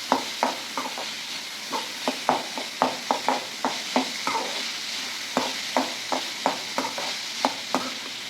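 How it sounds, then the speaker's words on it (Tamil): Onions frying with curry leaves in a pan for prawn gravy, a steady close sizzle broken by regular scraping stirs of the spoon at a brisk rhythm, with no voices. "நல்லா வெங்காயம் நல்லா வதங்கட்டும்."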